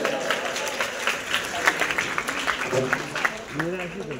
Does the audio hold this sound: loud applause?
yes